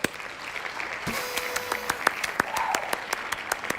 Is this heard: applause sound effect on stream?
yes